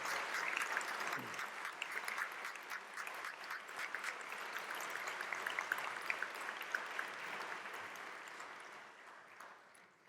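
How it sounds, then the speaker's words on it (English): An audience claps for faculty award recipients at a 2014 faculty convocation, a sustained, moderately distant round of applause that fades toward the end. "please join me in a round of applause for all of our award recipients once again."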